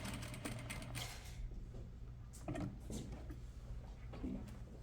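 A sewing machine stitching a half-inch sleeve seam on a set-in sleeve runs in short, quiet mechanical bursts with light clicks and pauses, close by but faint.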